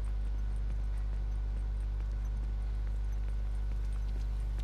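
Horse hooves clip-clopping in the video game The Last of Us: Left Behind, a faint steady patter of footfalls over a loud constant low hum, with no voices.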